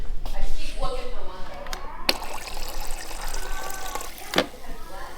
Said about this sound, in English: And now we dilute it up to the line, which is up here, all the way up here.